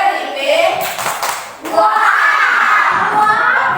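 A class of young children claps in unison during a group chant, bright rapid hand claps mixed with shouting voices, steady and loud throughout with a brief dip midway.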